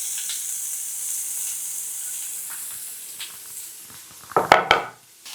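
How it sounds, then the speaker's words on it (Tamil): Chopped onions sauté in a hot pan with an even, steady sizzle, and metal utensils clatter against the pan near the end. "நல்லா இது கோல்டனாக வதங்கட்டும்."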